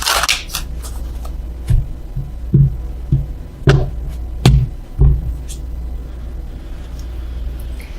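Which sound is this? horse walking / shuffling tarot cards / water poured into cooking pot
shuffling tarot cards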